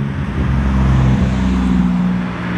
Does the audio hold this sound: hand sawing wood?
no